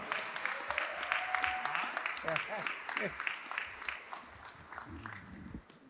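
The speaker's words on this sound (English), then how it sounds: "Everybody, please, round of applause for Mr. Campy Russell" An audience at a gym floor ribbon-cutting event claps in a scattered round of applause while people talk over it, all fairly quiet and distant.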